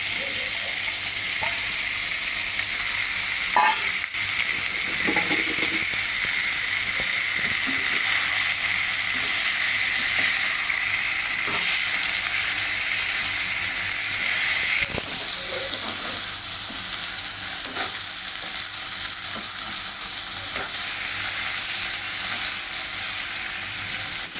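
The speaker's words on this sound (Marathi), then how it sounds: "त्यानंतर आपल्याला शिमला मिरची आणि बटाटे स्वच्छ धुवून घेतलेले आहेत, हे सुद्धा त्यात टाकून घेऊया." Capsicum and potatoes fry in a pan with a steady, close hiss of sizzling oil that runs throughout, broken by occasional spoon scrapes and taps.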